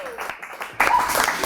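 Studio audience applause bursts in suddenly after brief talk, a loud dense wash of clapping from a crowd in a talk show setting.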